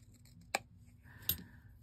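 Scissors cutting the corners of a journaling card decorated with sewn fabric: two short, crisp snips about three quarters of a second apart, close and quiet, with no talking.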